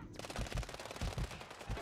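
Rapid gunfire in the Rust video game, a quick burst of several sharp shots in about two seconds, loud and close, with no talk over it.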